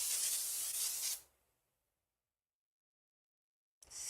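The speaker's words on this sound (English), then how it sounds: "I like to keep a spray in my house, and I like to spray myself." A Fast Luck spray bottle gives a sustained hissing spray for about a second, then silence, and a second spray burst starts at the end, close and fairly loud.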